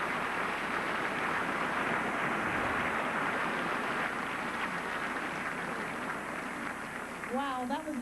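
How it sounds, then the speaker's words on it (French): Audience applause for pianist Oliver Jones at a televised evening show, a steady, dense wash of clapping that holds throughout, with voices faintly beneath it near the end. "How about another round of applause for Oliver Jones?"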